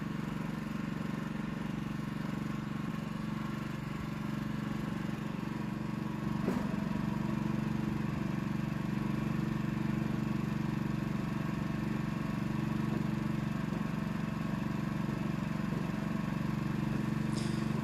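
The engine of a hollow tine aerator runs steadily at idle for a long stretch, a constant droning hum with one brief faint clank partway through and no voices.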